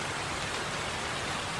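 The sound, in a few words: rain falling in the video game Stormy Islands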